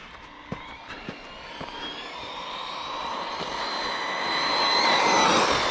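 A Team Corally Spark XB6 RC car's electric motor whines and rises in pitch as it accelerates, growing steadily louder with no talking, with a few sharp clicks early on.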